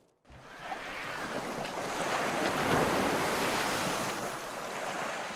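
Steady ocean surf washing onto a sandy Gulf beach where grunion come ashore, a continuous broad rush of breaking waves with some wind noise across the microphone, no voices.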